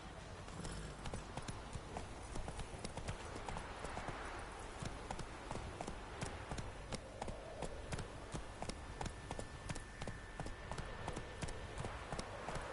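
Roach the horse's hooves in The Witcher 3: Wild Hunt on PS4, a steady, quick clip-clop of hoofbeats at a run, close and continuous throughout over faint game ambience.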